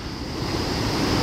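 Ocean waves breaking at the sea shore in Ratnagiri, a brief steady roar of surf with wind buffeting the microphone, close and fairly loud.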